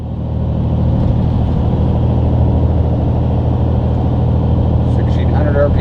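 A heavy truck with a Detroit Diesel DT12 automated transmission hauls uphill, its diesel engine droning loud and steady with a deep, sustained rumble and a brief gear shift near the end.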